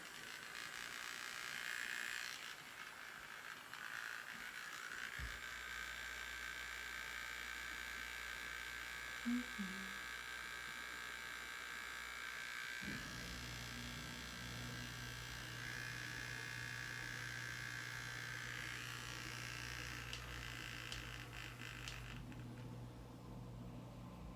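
A Selene electric brush cleaner and dryer spins a brush dry with a faint, steady high motor whine and low hum that shifts pitch partway through, recorded quietly in a sink with small handling knocks.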